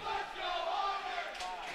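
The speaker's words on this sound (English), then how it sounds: "as you hear the fans of Albright cheering" Fans of Albright cheer and shout in an indoor pool arena at a college swimming championship, a sustained, loud crowd roar with raised voices carrying throughout, fairly distant and reverberant.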